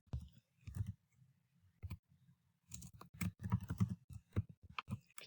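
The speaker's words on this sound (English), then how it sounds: "So here I will type in" Soft computer keyboard typing in short bursts separated by pauses, with clustered quiet clicks of varying intensity.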